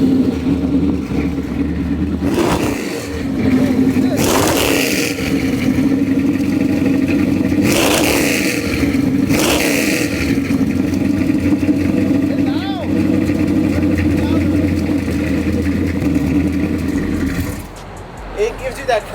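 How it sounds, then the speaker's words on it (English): A big block V8 fitted with headers and no catalytic converters, in a 454 SS, revs loudly and close up in several sharp bursts over a steady rumbling idle, with people talking in between. "for the very first time, I put an exhaust on a big block"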